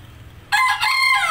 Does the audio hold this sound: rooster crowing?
yes